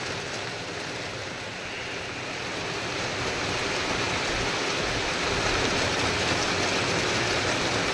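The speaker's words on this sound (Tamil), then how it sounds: "சரியான மழை பெய்யுது." Heavy rain pours steadily in a dense, unbroken hiss, growing slightly louder over time, with no voices.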